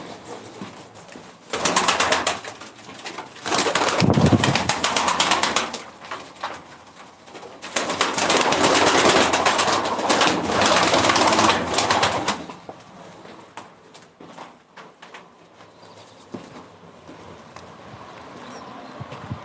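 Young pigeons at a live pigeon auction in Ankara coo and flutter close by, with bursts of dense bird noise rising and falling over steady background chatter.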